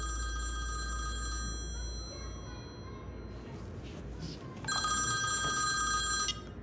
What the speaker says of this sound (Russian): Достали уже этими звонками.